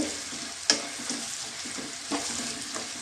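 Onion, ginger-garlic paste and salt frying in a pan as an egg masala base, a steady soft sizzle broken by a few scraping stir strokes, close and quiet with no voices.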